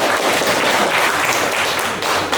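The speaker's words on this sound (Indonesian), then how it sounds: "Berikan tepuk tangan untuk kelompok 1." A class gives group 1 a round of applause after their presentation, a steady wash of clapping from many students filling the short stretch at an even level.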